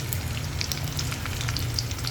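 Finely chopped potatoes fry with curry leaves in hot oil in a pan for sabudana khichdi, giving a steady, close sizzle with dense crackling pops throughout.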